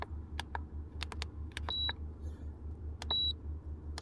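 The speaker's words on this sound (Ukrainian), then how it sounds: "закриваємо тепер мультиварку і включаємо режим" A multicooker gives short electronic beeps as buttons are pressed to switch on a rice cooking mode, with two longer tones among quick clicks over a steady low hum.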